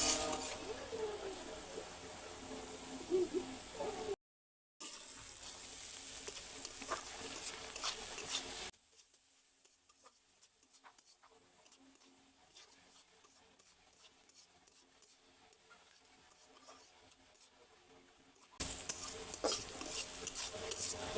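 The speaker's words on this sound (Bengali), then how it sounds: "এক কাপ অনুযায়ী পেঁয়াজ কুচি দিয়ে দিলাম। এখন ভালো করে নাড়বো।" A cupful of chopped onion is stirred in oil in a pan while cooking a prawn dish, giving soft scraping and faint sizzling in uneven bursts. A long stretch is nearly silent before the stirring noise returns.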